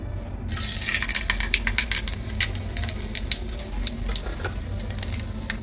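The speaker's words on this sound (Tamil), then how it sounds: "இப்போ எண்ணெய் காஞ்சிடுச்சு கடுகு சேர்த்துக்கலாம்" Mustard seeds crackle and pop in hot oil, a busy sizzling patter over a low steady hum, close by.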